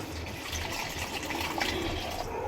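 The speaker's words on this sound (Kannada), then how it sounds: "ಈ ನೀರು ತೆಗೆದಿಟ್ಕೊಂಡಿದ್ನಲ್ಲ ಈ ನೀರನ್ನ ಇದಕ್ಕೆ ಹಾಕ್ತಾ ಇದ್ದೀನಿ" Water poured into tamarind juice for rasam, a steady close watery rush filling the vessel throughout, without talk.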